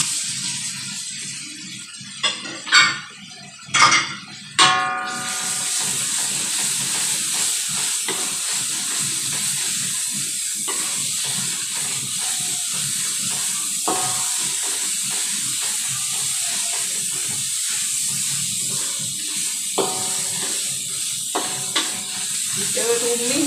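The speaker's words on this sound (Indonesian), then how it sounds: "Kita tumis dia betul-betul garing." Blended chili paste for a prawn and petai sambal sizzles and hisses steadily as it is sautéed in a pan, broken by sharp spoon clanks early on and periodic scraping stirs.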